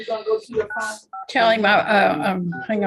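A few brief telephone keypad DTMF tones sound while entering a Zoom meeting ID over a phone line. The short beeps are mixed in among a recorded prompt voice and people talking nearby.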